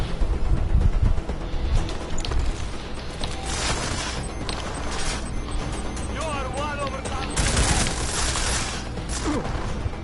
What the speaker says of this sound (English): I should have reloaded before I started firing.